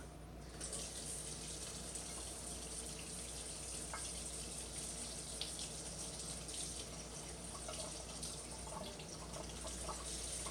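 Tap water runs steadily into a sink while a piping bag is rinsed out, a faint even gush with small splashes and no talking.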